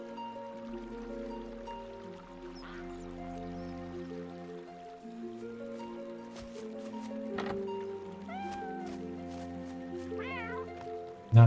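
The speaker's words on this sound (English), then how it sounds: "I hear a cat." Cat meowing in the video game RuneScape, several drawn-out, wavering meows in the latter half over a sustained tonal game ambience with faint trickling water, the last cries louder and more rapid.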